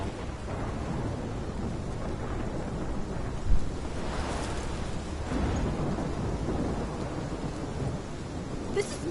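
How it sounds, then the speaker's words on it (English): Thunderstorm in the video game Life Is Strange: steady heavy rain with low rolling thunder rumbles swelling throughout, one sharper crack near the middle, no talk. "This is my storm."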